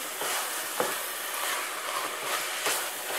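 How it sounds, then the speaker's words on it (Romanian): Onion and minced meat fry in a pan with a steady close sizzle, broken by a few brief stirring scrapes. "Prăjim puțin ceapa, 2-3 minute și punem carne."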